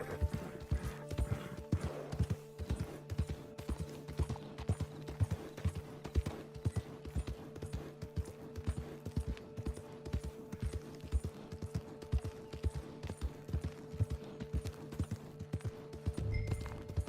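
Horse hooves clip-clop steadily through the Red Dead Redemption 2 game world, a continuous even rhythm of close, moderately loud hoofbeats with a low steady hum beneath and a brief whinny-like sound near the end.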